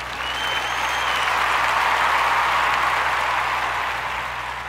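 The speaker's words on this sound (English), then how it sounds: "boys, give yourselves a round of applause." Boys at a school assembly burst into steady applause, dense continuous clapping that holds strong for several seconds before easing slightly, with no talk over it.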